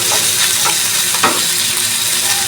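Marinated chicken sizzles steadily on a barbecue grill, a loud, close, continuous frying hiss with a few faint scrapes and no voices.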